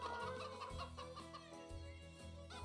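Chickens and baby chicks clucking in the ranch video game Rivershine, repeated short clucks and cheeps over steady background game music.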